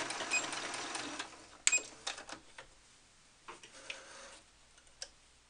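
A sewing machine stitching the back body piece of a handmade cloth doll, a series of close mechanical ticks and short clattering runs that fade into quieter scattered clicks.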